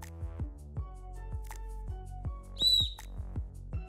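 A small plastic whistle built into the chest strap buckle of an Osprey Nebula backpack gives one short, shrill, high blast near the end, after a series of soft tapping and handling knocks.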